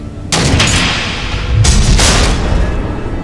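Two heavy, booming missile blasts in Batman: The Enemy Within, loud and close. Each erupts suddenly and then rumbles on in a long decaying roar, the second landing about a second and a half after the first, with no speech.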